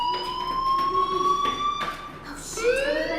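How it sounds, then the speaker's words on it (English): Fire alarm sounding in the video game Life Is Strange, a steady electronic tone with harmonics that holds for about two seconds, breaks off, then returns with a rising pitch, fairly loud and close throughout. "Hey, do you hear that fire alarm?"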